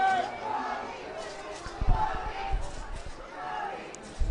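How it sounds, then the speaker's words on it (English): A high school varsity football crowd roars and rallies in the stands before a 43-yard field goal attempt, a steady broad wash of distant cheering and chatter with occasional thumps. "Crowd rallying behind Klein."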